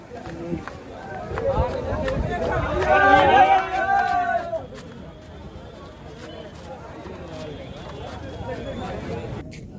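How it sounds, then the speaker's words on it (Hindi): A large crowd of students shouts and chatters in a dense, rising babble, with shrieks and raised voices peaking briefly before settling into a steady hubbub of overlapping talk and footsteps. "सब स्टूडेंट बहुत सारे एकदम चिल्ला रहे थे"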